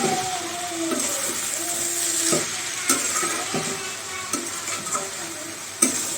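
Meat curry with chopped coriander leaves stirred in a wok (kadai): a soft, steady sizzle broken by repeated scraping and clinking of the spatula against the metal pan.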